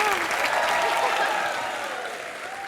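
Loud, continuous applause from a comedy show studio audience, sustained throughout and slowly tapering toward the end.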